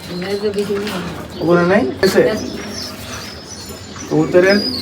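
Pigeons coo in soft, repeated throaty calls on a rooftop where pigeons and quails are kept, heard close by and mixed with people talking throughout.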